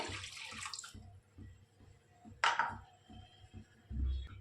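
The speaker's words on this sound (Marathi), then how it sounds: "दोन कप पाणी ओतले" A quick splash and hiss as two cups of water hit a hot wok with butter, followed by quieter bubbling and a few soft knocks nearby.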